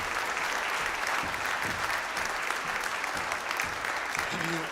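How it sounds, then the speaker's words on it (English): An audience at a silver band concert in a community church venue claps steadily, a dense, sustained applause throughout, with a brief voice heard underneath near the end. "So let's give a big round of applause to all those people that help make these nights so good."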